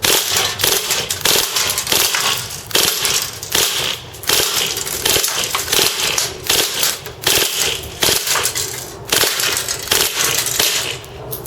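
KWA NS2 MP9 airsoft gun firing full auto into a can, loud rapid bursts of sharp cracks and metallic impacts in repeated strings, close and dense, with short pauses between bursts.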